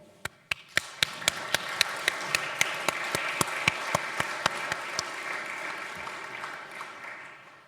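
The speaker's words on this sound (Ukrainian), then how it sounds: "І я хочу цей уклін і оплески адресувати вам і всім естонцям, дорогі друзі." Audience applause after a speech by the chairman of Ukraine's parliament, many hands falling into slow, loud, synchronized rhythmic clapping, a regular beat of about three claps per second that fades toward the end.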